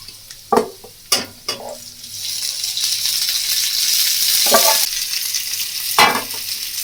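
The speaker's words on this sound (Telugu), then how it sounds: "ఇదంతా వేసిన తర్వాత కొంచెం జాగ్రత్తగా ఫ్రై చేయాలన్నమాట" Boiled brinjal and potato fry with browned onions in a pan, a loud, steady sizzle swelling after a few sharp knocks of a spoon against the pan, and more clanks later as the mixture is stirred.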